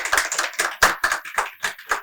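Audience at a Hindi book launch event claps to welcome an author, a few uneven bursts of close, fairly loud handclaps over about two seconds, without talk.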